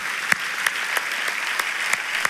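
A church congregation applauds during a Sunday service, a steady wash of clapping with a few sharper claps standing out, no voices over it.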